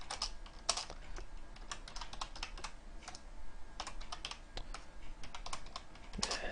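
Quick, uneven keystrokes on a computer keyboard, close and fairly soft, with bursts of clicking and short pauses throughout.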